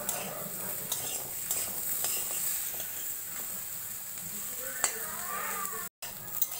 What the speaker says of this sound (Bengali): গাজরটাও একটু নেড়ে চেড়ে নেওয়া হবে